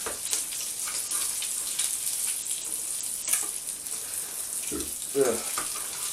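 An egg fries in a pan for a homemade double egg, bacon and cheese McMuffin, giving a steady close sizzle throughout, with a few brief scraping or stirring noises and a voice speaking briefly near the end.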